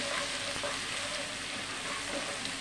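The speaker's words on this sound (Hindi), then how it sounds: "अब इसी समय इसमें हम कुटा हुआ लहसुन डाल देंगे इसे अच्छे से भून लेंगे" Crushed garlic frying in hot oil with crackling mustard seeds and cumin, a constant soft hiss of sizzling that stays even and fairly quiet throughout, with no voices.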